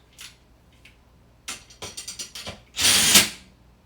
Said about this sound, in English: with the drill, I put it on the lowest tension setting.